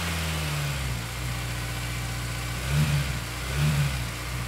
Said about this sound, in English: The engine is now started. And from what I can tell, it's actually idling pretty fine.